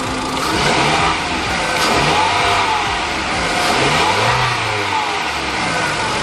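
Car engine rising from idle into revs as the throttle opens, a loud close mid-pitched roar swelling and easing in repeated waves over several seconds, with no one speaking.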